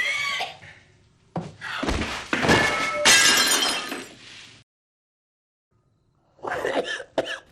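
A man in a Breaking Bad scene coughs heavily in repeated harsh fits, with a pause of silence before a final burst; glass seems to shatter amid the coughing.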